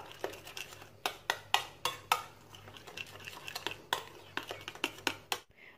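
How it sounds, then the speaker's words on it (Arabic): A utensil stirs caramel into fresh cream in a bowl, making quick rhythmic clinks and scrapes against the sides, close and fairly crisp, in irregular bursts that end abruptly. "غادي نخلط على هذا الشكل هذا الكراميل مع هاد القشده الطريه"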